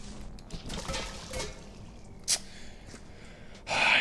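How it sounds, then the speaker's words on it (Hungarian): Water sloshes and splashes out of a tipped bucket in a crime-scene cleaning game, a short wet pour near the end following faint shuffling and a soft breathy gasp. "Kiborítottam a vizet."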